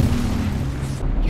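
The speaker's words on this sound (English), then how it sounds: "with the explosion finale" A deep rumbling explosion booms in the Elden Ring video game during a boss fight finale, a loud low blast filling the short moment.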